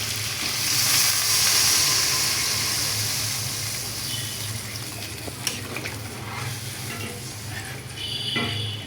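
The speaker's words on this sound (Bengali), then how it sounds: "এখন আমি জল দিয়া দিব" Water poured into a hot pan of fried taro gives a loud burst of sizzling and bubbling that gradually settles into a steady simmering hiss, with a few sharp clinks of utensil against the pan.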